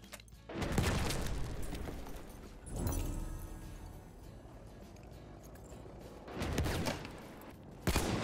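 Gunfire erupts in Battlefield 1 on PC, bursts of rifle shots and booming impacts in separate clusters with quieter stretches between, moderately distant and fairly faint overall.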